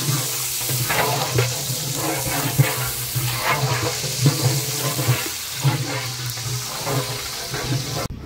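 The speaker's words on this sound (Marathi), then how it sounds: "मस्तपैकी कांदा टाकून घ्यायचा आतमध्ये" Chopped onion dropped into hot oil with cinnamon leaves for tempering, cooked in a large batch of Konkan village chicken curry; a steady, close sizzle with bursts of stirring and scraping.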